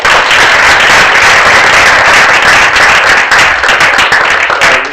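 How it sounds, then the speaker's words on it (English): Loud, dense applause fills a prize-giving ceremony for a low-tech innovation award, steady clapping from a crowd sustained throughout without a break. "Let's give them a round of applause."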